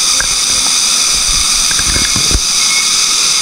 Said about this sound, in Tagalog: Yung naririnig nyo ay mga kuliglig talaga.